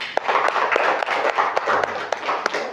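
Students in a primary school religious education class clap together in a quick rhythmic pattern of sharp, repeated claps. A few voices sound lightly between the beats.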